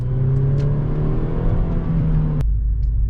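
A car engine hums and revs steadily at close range while driving, with a whirring road rumble that cuts off abruptly near the end, no talking.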